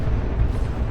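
Cyclone Barrage missiles explode during a Space Marines versus Orks battle in Dawn of War 2, a dense, loud, continuous low rumble of overlapping blasts with no clear gaps.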